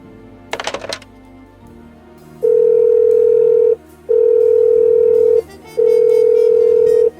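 Telephone ringback tone heard while placing a call in the adventure game Blackwell Unbound: a short burst of clicks, then three long, steady, loud tones separated by brief pauses, with no talking.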